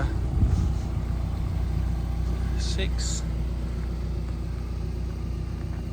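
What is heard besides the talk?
tuned Mazda MX5 engine and exhaust rumble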